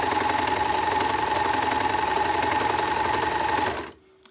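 A sewing machine runs steadily for nearly four seconds, feeding fabric for a reusable advent-calendar storage bag under the presser foot, its rapid even stitching close and loud before it stops abruptly.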